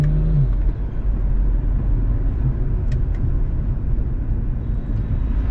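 BMW 335i in sport mode, its engine droning loud and steady under acceleration from inside the car, a continuous low roar with no talk.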